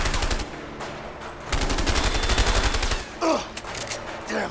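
Rapid bursts of automatic gunfire in the video game A Way Out, loud rattling volleys in several runs separated by brief pauses, with a short voice interjection near the end.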